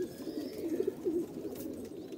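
Kasuri pigeons in a breeding pair, soft low cooing in a few short throaty phrases, close and faint against a quiet background.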